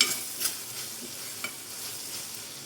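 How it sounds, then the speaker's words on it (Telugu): A churma mixture of crumbled chapati is stirred in a pan, giving soft, faint scraping strokes and a low background hiss, with a few light spoon taps spaced across the short stretch. "మధ్య మధ్యలో కలుపుకుంటూ ఉండాలి"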